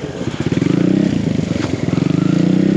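A 2023 Husqvarna TE300i dirt bike ridden off-road on loamy trails, its two-stroke engine buzzing loudly and steadily up close with rhythmic throttle pulses, and a voice briefly heard.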